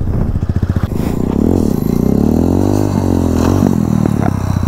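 A motorcycle engine revs hard under throttle during a wheelie, its loud close drone rising and falling in pitch with a rough, pulsing exhaust.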